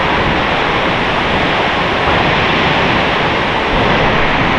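Tiryani waterfall in Telangana, a loud, dense and unbroken roar of falling water filling the whole clip at close range, with no voices.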